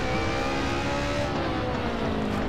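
Group A race car in Assetto Corsa on a hill descent, its engine droning steadily with shifting harmonic tones, loud and close throughout without a break.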